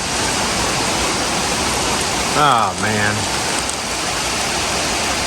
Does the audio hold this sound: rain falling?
yes